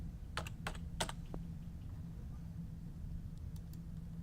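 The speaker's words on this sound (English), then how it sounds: "I'm simply going to type in throwing" Keys clack on a computer keyboard as a search term is typed in, with a few quick, close keystrokes at the start and a couple of softer taps later over a quiet room hum.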